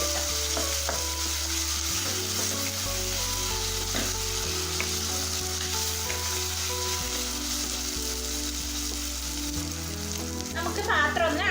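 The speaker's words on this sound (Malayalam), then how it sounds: "നമുക്ക് ഇതിലേക്ക് അരിഞ്ഞു വെച്ചിട്ടുള്ള തക്കാളി, അതുപോലെ തന്നെ പച്ചമുളക് എന്നിവ ചേർത്തിട്ട് നന്നായിട്ടൊന്ന് വഴറ്റിയെടുക്കാം." Chopped tomato and green chilli sauté in a pan for a bitter gourd milk curry, giving a continuous close sizzle and fry with soft stirring scrapes and a low steady hum underneath.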